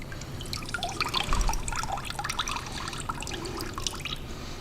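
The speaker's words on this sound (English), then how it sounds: "And now I let it all drain." Water draining and trickling away during homemade sandpaper making, a steady close dribbling with scattered drips and splashes, no voices.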